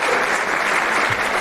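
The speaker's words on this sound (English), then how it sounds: "Coach Navarro, please give her a big round of applause." Dense, steady applause from an audience at a football award ceremony, honoring the team trainer, loud and continuous across the whole moment with no pauses or voices standing out.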